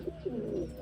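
Taiwan pigeons cooing up close, a short soft series of throaty coos with a couple of quick rising notes, no voices present.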